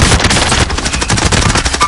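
Loud, continuous rapid gunfire rattles through an online multiplayer shooter video game, a dense unbroken burst of shots filling the moment.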